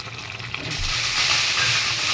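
Fish curry sizzles in a pan as coconut oil is poured in, a steady close hiss that swells and brightens partway through and holds loud to the end.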